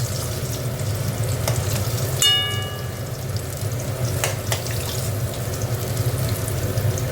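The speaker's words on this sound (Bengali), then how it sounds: "একটু না ভেজে নিলে না কাঁচা গন্ধ ছাড়ে, ওই জন্য একটু ভেজে নিলাম কুমড়োটা" Pumpkin pieces fry in hot oil for a Bengali chhechra dish, giving a steady, even sizzle throughout with no talk. A single ringing metallic clink from a utensil sounds partway through.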